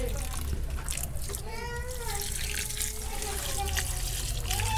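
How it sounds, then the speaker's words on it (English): Running water pours steadily while plants are watered outdoors, a continuous splashing flow heard under nearby adult talk and a voice. "Let's water this first."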